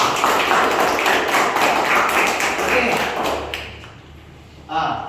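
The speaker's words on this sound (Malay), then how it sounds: "bagi tepukan kat Lina Musi" A Malaysian Year 5 science class applauds a student, a dense patter of many hands clapping for a few seconds before it fades into a thump and a brief voice.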